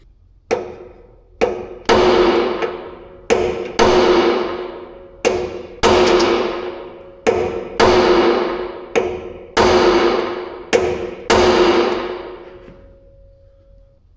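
Metal hammer blows strike a stuck part on a salvaged man-lift, about eleven loud, close, ringing impacts at an uneven pace, each decaying with a metallic tone.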